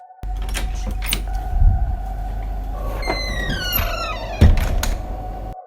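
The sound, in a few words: door suddenly opening by itself, sound effect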